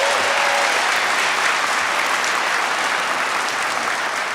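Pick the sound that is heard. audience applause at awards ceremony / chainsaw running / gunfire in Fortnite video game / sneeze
audience applause at awards ceremony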